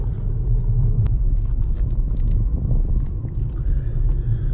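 A stock MK5 Volkswagen GLI being driven, its engine a steady, loud low rumble from inside the car with no talking over it.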